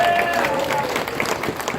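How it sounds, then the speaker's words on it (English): Crowd applause at a right-to-strike labour demonstration in Sydney, a dense wash of clapping heard briefly and fairly loud, with some voices mixed in. "give him a round of applause"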